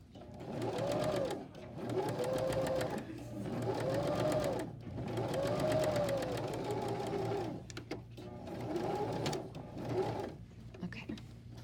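A sewing machine stitches backpack fabric in steady mechanical bursts of rapid needle chatter, stopping briefly between runs and getting shorter and choppier toward the end.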